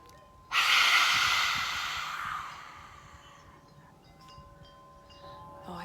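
A single deep breath during a children's calming breathing exercise: a sudden, loud, breathy rush of air that slowly fades over a couple of seconds into quiet room hiss, with no talking.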